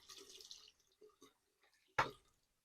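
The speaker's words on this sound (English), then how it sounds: "Ooh, warm water on a washcloth" Warm water running and dripping onto a washcloth at a sink, soft intermittent trickles and splashes ending in one sharper wet splat, quiet and close.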